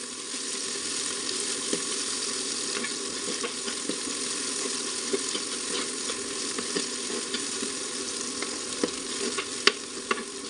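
Ginger and garlic sizzle steadily in hot oil in a pan, with scattered clicks and scrapes from stirring running through the whole stretch and no voices.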